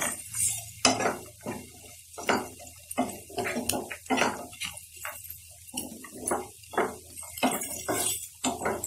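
Grated coconut fried in oil in a pan for idli upma, with a spatula repeatedly clanking and scraping the metal pan in a busy rhythm over a soft sizzle, close and fairly loud.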